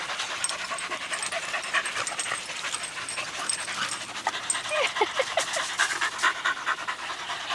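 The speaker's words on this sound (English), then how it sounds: "Listen to all the panting." Rapid, rhythmic panting from dogs close by, continuous and breathy, with a faint whimper or two and soft voices in the background.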